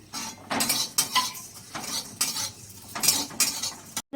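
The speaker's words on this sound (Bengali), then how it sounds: "যা যা মশলা আছে সব মশলাগুলো আমি এখন ভেজে নেব" Whole spices fry in a pan for a vegetarian green jackfruit curry as a metal spoon stirs and scrapes them in loud, rhythmic strokes over a light sizzle, with no talking.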